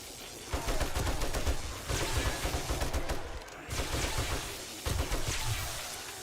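AK rifle fire in 7 Days to Die comes in sustained rapid bursts, loud and close, broken by short pauses between volleys.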